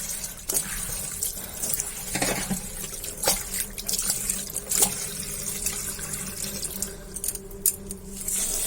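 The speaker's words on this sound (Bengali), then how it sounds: "আমাদের ছোট চুপড়িটাকেও ধুতে হবে, ছোট চুপড়ি আর এটা।" A small basket is washed under running water from a kitchen tap, with a steady splashing flow and intermittent knocks and rinsing bursts close by.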